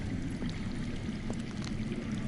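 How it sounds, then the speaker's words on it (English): Underground running water flows in a Game of Thrones video game, heard as a faint, steady rushing and pouring stream that continues unbroken with no voices over it. "I hear water. From underground."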